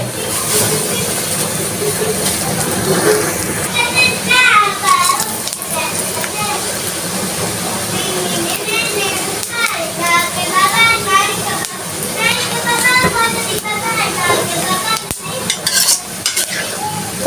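Oil sizzles and crackles steadily in a pan as bay leaf and cardamom go into the hot fat for tempering, a close, continuous frying hiss with stirring scrapes, while a person talks over it throughout.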